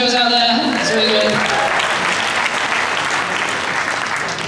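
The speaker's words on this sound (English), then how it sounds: "Round of applause for Jamie as he goes out there" An audience at a juggling convention claps in a loud, dense burst of applause that carries steadily throughout, with a voice speaking over it at the start.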